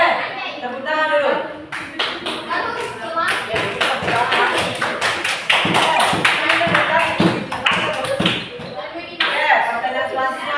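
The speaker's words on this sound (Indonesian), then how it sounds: "tepuk tangan dulu" Classroom applause as a group of students claps hands together, dense rapid clapping that swells and continues for several seconds, loud and close, with brief pauses and some voices mixed in.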